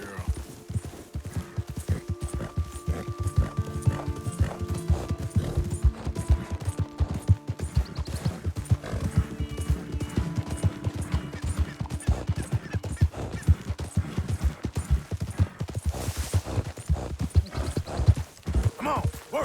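Horse hooves clip-clop steadily in the Red Dead Redemption 2 game as a rider travels at a walking pace, with close rhythmic footfalls running throughout and occasional brief talk and a whinny mixed in.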